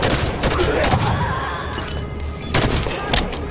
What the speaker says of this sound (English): Just trying to clear out most of the grunts with the Magnum